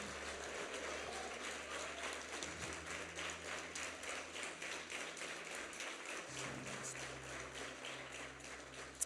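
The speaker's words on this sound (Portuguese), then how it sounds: "aplauda Jesus bem forte" Congregation at a church service applauding steadily for about nine seconds, a dense clapping texture with faint low organ or keyboard notes sustained beneath it.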